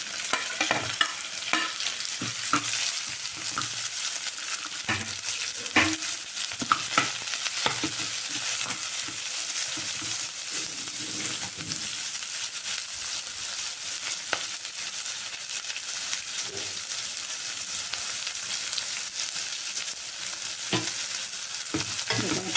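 Onions with curry leaves sizzle and crackle steadily in a hot pan while a utensil scrapes and stirs them at intervals, close and continuous throughout.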